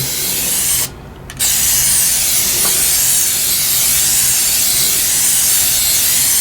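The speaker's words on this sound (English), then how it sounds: "And all I'm going to do is spray." A steady, close hiss of white gloss spray paint from a Rust-Oleum aerosol can onto cabinet drawers, briefly stopping for a moment early on before resuming and continuing evenly.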